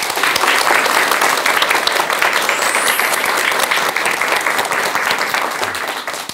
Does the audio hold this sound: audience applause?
yes